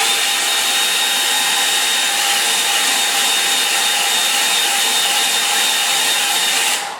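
A hair dryer runs for several seconds drying a watercolour painting, a loud, steady close-up whoosh of air that tapers off right at the end.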